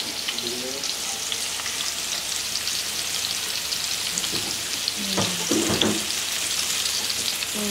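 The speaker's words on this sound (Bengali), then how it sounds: "পেঁয়াজটা একটু ভেজে নেবো" Onion fries in hot oil in a pan in a village home kitchen, with a loud, continuous sizzle. Stirring clatters break through the sizzle a few times toward the end.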